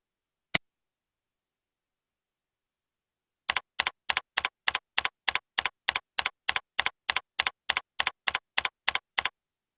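Keys on a computer keyboard are tapped to type an email address: one isolated click, a pause of about three seconds, then a brisk, even run of about eighteen crisp keystrokes up close.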